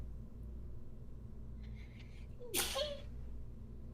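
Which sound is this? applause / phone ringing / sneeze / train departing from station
sneeze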